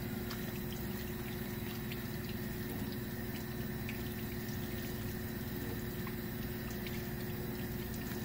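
Hands are rinsed under a running tap after nail brushing during a hand-washing lab, producing a steady, even rush of water with a constant low hum and no talking.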